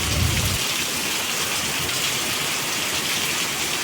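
Steady rain pours down outside a home garden with potted plants, a dense, continuous hiss of drops hitting surfaces close by, with a brief low rumble at the start, and no voices.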